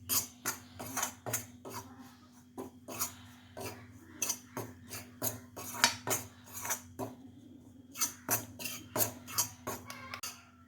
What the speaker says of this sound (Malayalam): അതുവരെ നമുക്കൊന്ന് ഇളക്കി കൊടുക്കണം